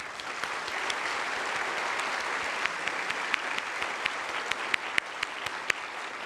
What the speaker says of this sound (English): So I want to give a round of applause to Johnson here.